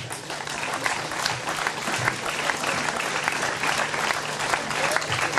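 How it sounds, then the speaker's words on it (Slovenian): An audience, the mayor among them, claps continuously at a homecoming talk, a dense and steady ovation with no voices over it. "tudi naš edini župan je zaploskal"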